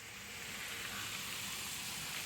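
Tomatoes sautéing in a large pot for a 6 kg mutton biryani, heard as a dense, even hiss of frying that runs unbroken through the short stretch, with no voices.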